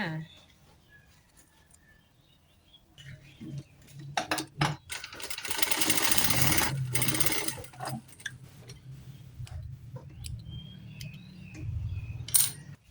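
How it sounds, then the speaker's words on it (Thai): A sewing machine stitches elastic into a pants waistband in a brief loud whirring run, surrounded by ticking clicks, with a voice speaking over it. "นี่ตำแหน่งยางที่เรามาร์กไว้ แล้วก็เย็บต่อจ้า"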